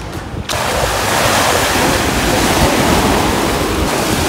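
Ocean surf washing onto a beach at Dhanushkodi, a loud, steady roar of breaking water mixed with strong wind noise after a brief quieter start.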